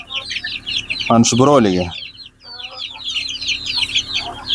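Andijan black chickens cluck repeatedly in a farm flock, with one loud rooster-like call in the middle and chirping birds behind; someone speaks briefly over them.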